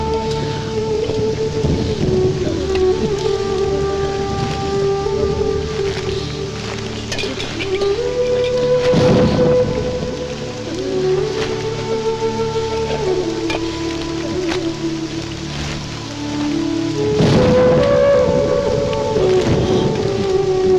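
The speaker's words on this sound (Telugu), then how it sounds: "ఇప్పుడు అర్ధంతరగా ఈ వర్షం పట్టుకుంది." Heavy rain pours steadily with thunder rumbling in loud swells around the ninth and seventeenth seconds, all under sustained tonal music throughout.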